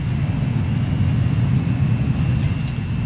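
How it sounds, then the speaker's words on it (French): Aircraft departing for Stuttgart in the Transport Fever game, a steady, loud engine roar with a broad rumble that holds constant throughout, with no voices. "Les avions pour Stuttgart sont partis."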